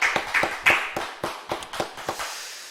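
A church congregation at a Friday late-night prayer meeting claps in a loose, rhythmic burst of about a dozen sharp beats, fairly close, with no talking.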